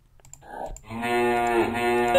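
A cow moos in the Fields of Logic video game, a long sustained low call that swells and holds steady near the listener after a few soft clicks.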